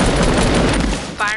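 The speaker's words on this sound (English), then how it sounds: "Firing squad." A loud, dense burst of gunfire from a firing squad, a rapid rattling volley lasting about a second before it drops away, with no talk over it.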